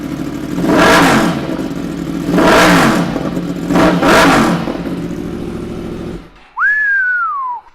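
A 2016 Yamaha MT10 motorcycle fitted with a Scorpion exhaust revs loudly and close in three sharp bursts, each rising and falling. The engine then cuts off and a single whistle follows.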